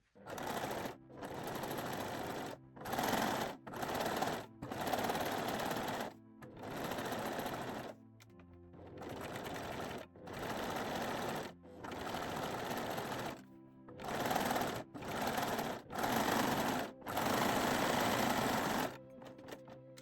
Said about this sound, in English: sew both leg openings using a zigzag, 3-step zigzag or cover stitch machine